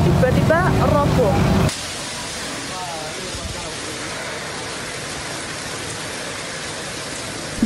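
Heavy, steady rain hisses with strong wind over Ceper, Klaten, in Central Java, during a storm that damaged buildings. A voice talks briefly at the start before the dense, even downpour fills the rest.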